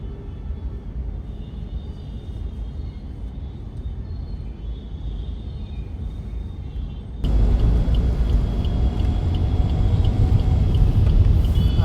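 Monday road traffic at Tinath Naka heard from a moving rider, a continuous low engine and road rumble that jumps louder partway through and stays heavy to the end, with no talk.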